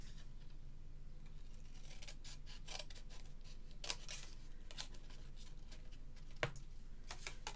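Scissors snip through paper while a fancy fold gift box is made, a quiet scattering of short separate cuts with pauses between them, close and soft, with no talking.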